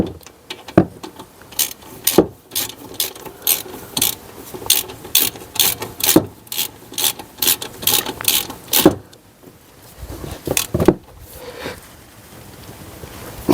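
A ratchet tightens the lower brake caliper bolt on a 2017 Mercedes E220 during a brake disc and pad change, clicking rapidly and evenly in repeated bursts, close and clear, with short pauses between strokes.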